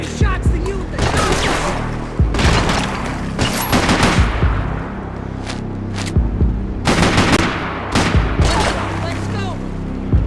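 Gunfire in the Max Payne video game: loud rapid bursts of automatic fire and single shots, close and repeated, while voices shout over the shooting.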